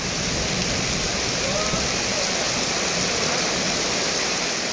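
Heavy rain pours steadily with strong gale-force winds around Gobichettipalayam in Erode district, a dense continuous roar of water and gusts close by with no break.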